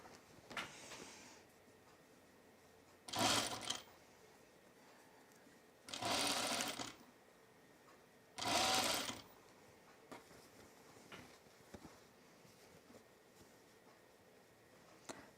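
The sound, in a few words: sewing machine stitching seams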